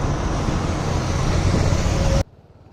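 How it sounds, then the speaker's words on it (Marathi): Road traffic noise on a highway near Bhiwandi, heard from a motorcycle: a steady, loud broadband roar of vehicles and engines that cuts off abruptly near the end. "ट्रॅफिक आहे रे भाई, ट्रॅफिक आहे."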